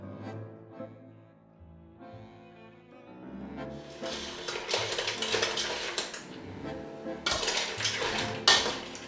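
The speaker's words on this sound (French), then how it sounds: "Nous devons remuer les coquillages en permanence et surveiller la cuisson parce qu'elle sera rapide." Mussels and clams stirred in a pan for rice, with shells clinking and scraping against metal in busy, irregular bursts that grow louder after a quiet start, close up with no voices.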